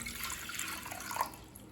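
Water is poured into a pressure cooker to cook dal, a soft close splashing and trickling that is fairly faint and lasts under two seconds.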